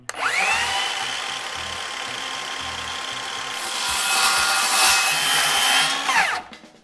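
A power saw cuts through wood along a marked line, a loud steady whine held for several seconds with rising rasp as the blade pushes through, then spinning down abruptly at the end.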